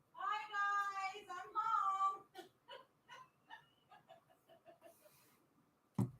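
A twenty-year-old pet cat meows in a drawn-out, wavering cry of two long calls, followed by a string of shorter, fainter chirping mews that trail off into near silence.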